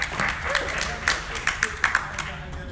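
An audience breaks into scattered clapping, with sparse, uneven bursts of claps that rise and fade over a few seconds alongside some voices.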